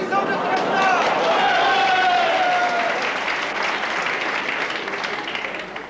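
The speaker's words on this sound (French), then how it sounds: "Et nous applaudissons le président." An audience applauds the president at a 1981 French quiz event, a loud, sustained wash of clapping with some crowd noise and a voice briefly audible underneath, easing slightly toward the end.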